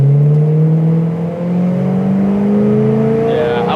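A 1966 Pontiac GTO launches from a dead stop, its engine note climbing steadily in a loud, continuous rev as the car accelerates, with a brief dip mid-pull before rising again.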